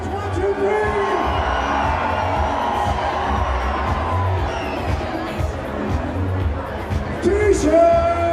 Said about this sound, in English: On a count of 3, scream for t-shirts.